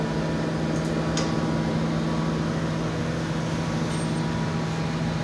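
Steady roaring hum of a glassblowing furnace during the reheat of a blown glass pinch bowl, a constant, even drone with no talk.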